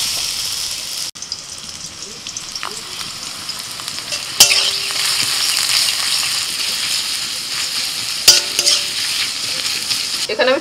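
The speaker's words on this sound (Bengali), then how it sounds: "ওই তেলের মধ্যে দিয়ে দিচ্ছি পেঁয়াজ কুচি" Chopped onions frying in hot oil for a mutton and okra-in-yogurt dish, a steady close sizzle with stirring clatter and a couple of sharp utensil knocks.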